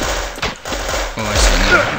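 Gunfire from the zombie shooter game Marksman, loud blasts and thuds over about two seconds, including a heavy burst near the end.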